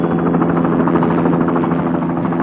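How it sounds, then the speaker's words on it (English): A blue helicopter flies over a city street, a steady, loud rotor and engine drone with a rapid blade-beat pulse, continuous and close throughout, with no voices. "Above the bustling city streets, a blue helicopter glides gracefully through the morning sky."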